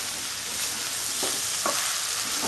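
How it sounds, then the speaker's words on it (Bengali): Chilli paneer sizzles steadily in a frying pan as it is stirred, with a continuous loud fry and a few soft scrapes of the spoon against the pan. "এইভাবে আমি দুটো একসাথে মিলাতে থাকবো।"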